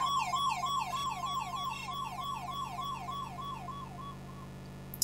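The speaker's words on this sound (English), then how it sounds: "Here comes the ambulance." Electronic ambulance siren from an Atari 2600 video game, a steady chiptune wail that repeatedly sweeps up and down in a regular rhythm, loud and alone before fading slightly near the end.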